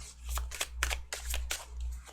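Tarot cards riffled and shuffled in quick bursts, close and crisp, with a steady low hum underneath.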